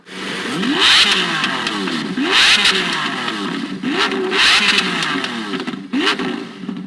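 A powerful sports car engine revs repeatedly, rising and falling in sharp bursts, loud and close.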